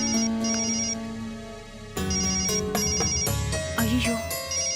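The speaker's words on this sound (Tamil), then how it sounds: "ஐயோ, மகேஷ் ஃபோன் பண்றாரு." A mobile phone rings with an incoming call, a bright electronic melody repeating in a loud, clear pattern that restarts and swells partway through, with no talk.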